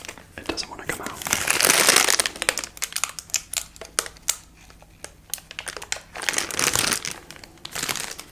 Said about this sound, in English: I have to rip the hole big enough so I can get it out.